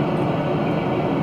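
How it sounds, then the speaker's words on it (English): A train engine in the Train Simulator 2013 video game rumbles steadily and loudly for about a second, a dense unbroken drone with no talking over it. "Listen to the engine sound."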